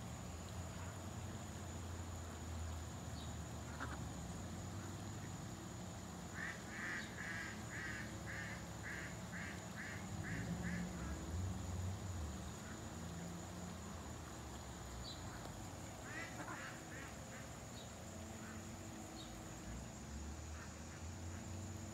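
Wild ducks quack in rapid rhythmic runs at moderate distance, a few separate bursts scattered over steady outdoor background noise.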